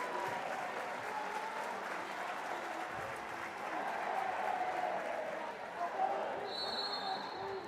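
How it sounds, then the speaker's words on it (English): At a high school boys basketball game on senior night, Lakewood fans fill the gym with sustained applause and cheering, a dense steady roar that swells slightly toward the end, with a faint ball bounce underneath. "That's one of the moments where as a commentator you have to step back and let the crowd speak for you."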